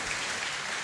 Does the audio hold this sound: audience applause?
yes